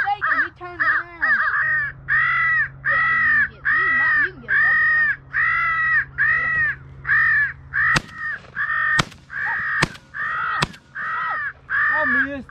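Crows caw over and over in rapid, strongly harmonic bursts, loud and close, during a crow hunt; a few sharp gunshot-like cracks break in near the end.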